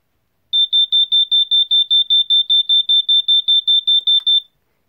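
A First Alert SA80FD smoke detector sounds a rapid series of sixteen high, piercing beeps in an even rhythm, close by yet somewhat muffled and not very loud, then stops with a faint click.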